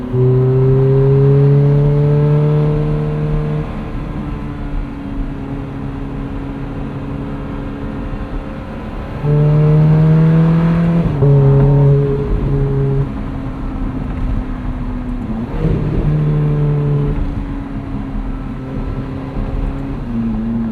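A 2008 Ferrari F430 Spider V8 drones steadily at cruising speed from inside the car, with a few louder throttle swells where the engine note climbs and falls.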